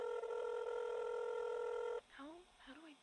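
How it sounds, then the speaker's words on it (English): A phone call's ringback tone hums steadily for about two seconds, then cuts off as a voice begins speaking, quiet and close. "Answer the phone!"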